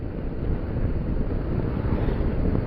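Steady, roaring wind buffeting the microphone while riding a motorcycle, a continuous low rumble with no other clear sounds.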